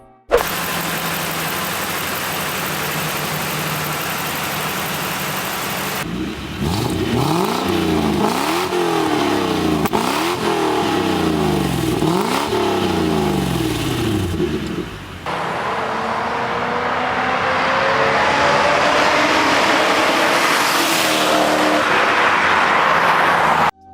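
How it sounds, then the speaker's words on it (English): A Mazda Miata swapped with a Toyota 1UZ V8 revs loudly and close by, with repeated rising and falling throttle blips, then a sustained higher rev near the end. "This Miata received the amazing 1UZ, one of the best Japanese V8s to ever come out,"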